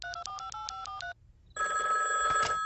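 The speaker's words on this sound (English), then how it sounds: "it's Leary's cell phone" A cell phone rings with a rapid repeating electronic ring, briefly pauses, then rings again, loud, close and steady, with no talk over it.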